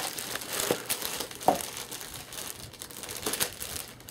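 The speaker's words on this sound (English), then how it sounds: "Get a knife. Start cutting this tape off of here." A knife slices packing tape off a cardboard box holding a Piper Cub model plane, making scratchy crinkling bursts at close range with a couple of sharper rips between them.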